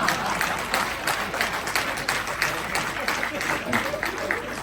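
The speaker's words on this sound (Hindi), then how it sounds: "2-3 लोग ताली बजा रहे हैं, आप ही रहने दो।" A few audience members clap at an all-India comic poetry gathering, giving a thin, steady patter of handclaps that runs through the whole stretch.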